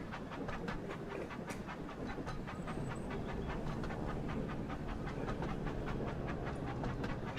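Steam engine in the Wonders of Sodor video game chuffing as it pulls off, a steady rapid run of rhythmic chuffs at moderate level with faint clanking, no talking.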